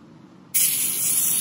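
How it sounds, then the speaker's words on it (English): A can of fluorescent neon spray paint bursts into a loud, steady hiss after a moment of quiet, then sprays in one continuous, close jet until the end. "let's give this one a spray"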